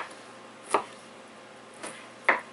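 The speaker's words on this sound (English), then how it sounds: "I'll chop them up and render them down" A knife chops through pieces of tallow fat for rendering, giving three faint, separate cuts against a cutting surface in a quiet room.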